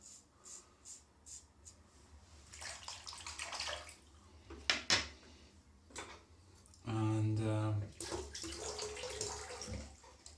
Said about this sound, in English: little bit more water in the shaving cream